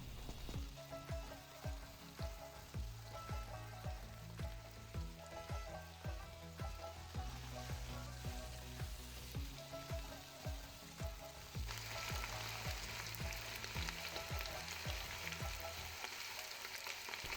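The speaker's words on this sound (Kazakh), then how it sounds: "Картошканы салған соң 1-2 минут шамасында қуырып алдым" Potatoes sizzle and crackle in hot oil with meat, onion and carrot for a mung bean and rice soup, with rhythmic scraping of a spoon stirring throughout and a steady, close frying hiss, no talk.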